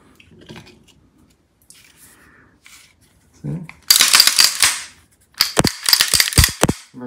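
Mechanical slide racking on a Bul-Armory SAS II UR Shorty 9mm pistol with polymer grip: two bursts of sharp metallic clacks and snaps, loud and close, after a few soft handling noises.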